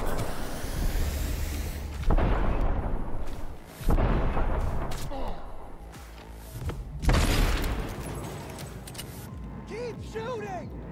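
Gunfire in Cyberpunk 2077, heavy booming shots and mechanical clanks arriving in irregular bursts, loud and close, with a player talking over the action.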